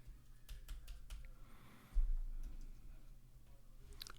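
Keystrokes on a computer keyboard typing a word into a search field, a scattered series of light clicks at close range with a short pause midway, no voices.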